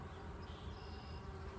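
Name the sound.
honeybees buzzing around an open beehive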